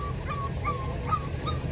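A border collie whimpers outdoors near sheep and chickens, with several short, thin whines rising and falling over a steady low background rumble.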